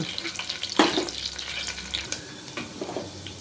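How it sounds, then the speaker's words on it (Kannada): Mustard seeds and cumin crackle in a couple of spoons of hot ghee with garlic for an aloo rice tempering, a close, lively sizzle with bursts of popping and stirring scrapes, no voices. "ಒಂದೆರಡು ಚಮಚ ತುಪ್ಪ ಹಾಕೋಣ ಸಾಸು ಜೀರಿಗೆ ಹಾಕೋಣ"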